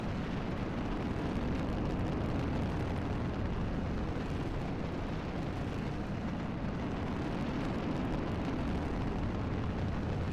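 A rocket engine roars during a launch in Kerbal Space Program, a loud, dense, continuous rumble that holds steady throughout with no one talking.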